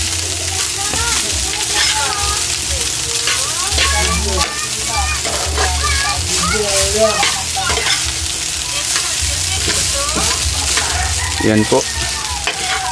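Breakfast frying in a pan as a woman cooks for her children, a steady sizzle with stirring clatter under frequent conversation, and a rooster crowing nearby in the background.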